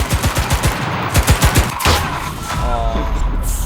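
Rapid bursts of automatic gunfire in the video game Cuisine Royale, a loud, fast rhythmic volley of close shots for about two seconds, then a shorter spatter of fire fading into rumbling ambience.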